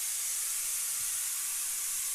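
A kitchen pressure cooker releases steam in a steady, high, airy hiss that holds unchanged for about two seconds, fairly faint and with no voices.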